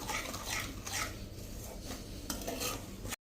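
A spoon scrapes and stirs a thick methi pak mixture of flour, ghee, spices and poppy seeds in a pan in steady, repeated strokes, close up with no voices.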